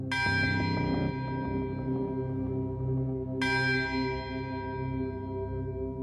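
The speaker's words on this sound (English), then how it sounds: "he grabbed a stick from the ground and clanged the bell stupidly" A large iron bell is struck twice with a stick, each clang ringing out with a long, rich, slowly decaying tone that hangs in the air between hits.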